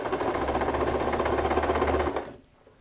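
A sewing machine runs a continuous rapid stitch through a denim bag made from recycled jeans for about two seconds, then stops abruptly.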